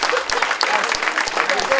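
A hall full of charity ball guests applauding, steady close clapping with a murmur of voices underneath for a short stretch.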